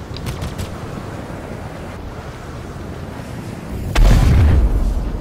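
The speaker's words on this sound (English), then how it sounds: "And missiles got me." Missiles explode on the player's ship in Star Citizen: a steady windy rush of flight noise gives way to a sudden loud, deep blast near the end that rumbles on for about a second.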